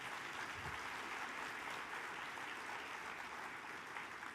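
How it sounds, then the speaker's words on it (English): Applause for state senators at a Tennessee governor's conference, a soft, even wash of clapping from a large hall audience, heard faintly and steadily throughout without voices. "So let's clap for all those senators, if you would."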